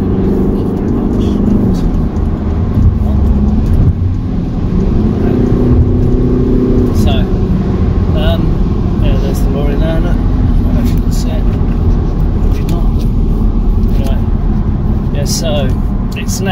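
Road noise from a Mercedes SLC driving along, with a bus coming the other way and cars passing, a steady broad engine and tyre rumble throughout with someone talking over it.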